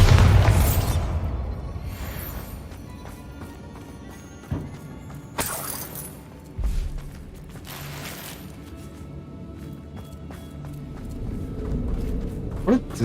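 A Bombarda spell explosion in Hogwarts Legacy: a loud shattering blast with crumbling debris, then rattling mechanical clatter and further bangs, with a voice speaking briefly.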